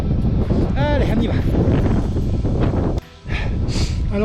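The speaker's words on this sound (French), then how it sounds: "vous entendez sans doute pas grand chose parce qu'il y a beaucoup de vent" Strong wind buffets the microphone on a mountain ridge during an ultra trail race, a loud constant roar broken by a brief lull, with a voice talking over it.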